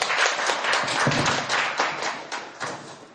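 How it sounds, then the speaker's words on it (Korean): Applause for a professor at a launch forum on freedom of expression, a moderate crowd clapping in a continuous patter with distinct slaps throughout, without voices over it. "여러분 다시 한번 박경신 교수님 박수 부탁드리겠습니다"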